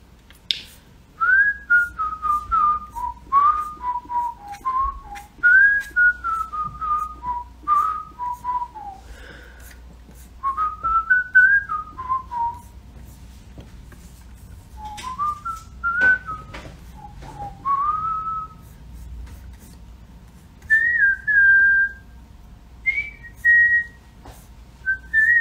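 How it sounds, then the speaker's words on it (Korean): A young man whistles a melody in a quiet room, clear and close, in short phrases of sliding tones separated by brief pauses, with faint clicks and handling noises between them. "휘파람은 옛날부터 잘 했어요."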